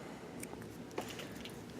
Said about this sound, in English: I then take my scissors